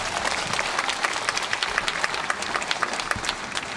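An audience at a concert claps steadily, a dense patter of many hands applauding nearby without pause.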